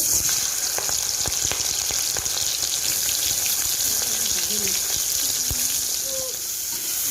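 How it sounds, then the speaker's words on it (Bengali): Crabs frying in hot oil in a home kitchen give a constant, close sizzle scattered with sharp crackles and pops, with only faint background sounds and no clear talking. "তেলটা গরম হয়ে গেছে এখন কাঁকড়াগুলোকে ভেজে নেবে"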